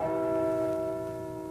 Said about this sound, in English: the chime of the church bell